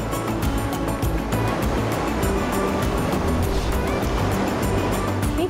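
Steady broadband rushing of a river flowing behind a backyard with outdoor living space, hot tub and fire pit in Washington whitewater country; continuous, loud and unbroken, with a low rumbling undertone and no voices.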